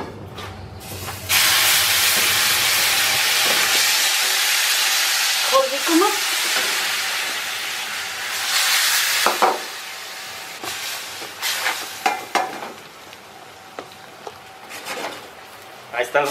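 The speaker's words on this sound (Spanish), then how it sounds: "Ponemos nuestros totopos en el sartén y en ese momento le vamos a echar salsa." Tortilla chips (totopos) hitting a hot pan as salsa is poured in, a loud burst of sizzling and hissing that eases into softer crackling and stirring scrapes, alone without talk.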